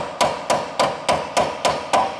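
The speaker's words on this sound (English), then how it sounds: "thread this guy right back on because you're gonna wanna hit this out" A small hammer knocks out a suspension joint on a DeLorean, with a nut threaded back on to protect the threads: seven loud, close, evenly spaced metallic blows, alone, with no voices.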